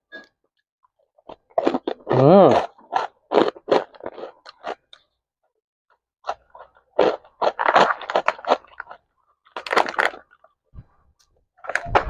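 Loud, close crunching bites and chewing of crispy chicharon pork cracklings, arriving in irregular bursts separated by quiet pauses, with a brief murmur of appreciation between mouthfuls.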